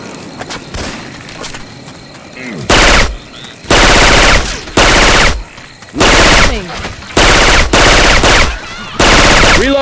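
Automatic weapon fire in Left 4 Dead 2 using Syphon Filter-style sound effects, loud repeated bursts of rapid shots separated by short pauses, with quieter game ambience between them.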